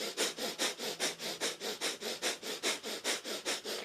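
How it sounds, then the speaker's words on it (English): Rapid rhythmic nasal sniffs of kundalini breath of fire, roughly four pulses a second, close and steady with no talk. "slow that breath of fire right down to a slow breath of fire or to a long, slow, deep breath"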